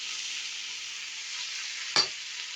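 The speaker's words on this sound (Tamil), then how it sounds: "நான் இப்போ புளியும் தக்காளியும் போட்டு வதக்கிட்டு இருக்கேன்." Tamarind and tomatoes sauté in a pan for a spicy chutney, giving a steady, even sizzle. One short clink of a utensil sounds near the end.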